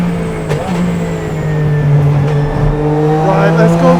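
An ex-works Porsche 996 GT3 RSR race car is driven hard on a track, its engine note loud and close with rising and shifting revs and a brief tire squeal.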